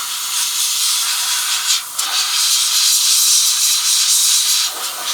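An airbrush sprays primer onto a miniature model in continuous loud, close hissing bursts, with brief dips where the trigger eases off before spraying resumes.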